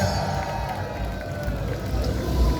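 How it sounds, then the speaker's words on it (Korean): Outdoor rally crowd on a Liberation Day gathering at Gwanghwamun square applauding, a steady dense wash of clapping and murmuring voices, loud and continuous with a swell near the end. "이분들을 위해서 박수 한번 부탁합니다."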